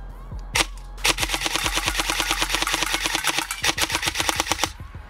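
G&G SSG-1 USR airsoft rifle firing semi-automatic shots in rapid succession, a long even rhythm of sharp snapping reports close to the microphone, broken by one brief pause before the string resumes and stops.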